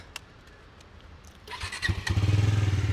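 A Bajaj Pulsar NS400Z motorcycle engine cranks and catches, then settles into a steady low idle that grows louder, with no voices.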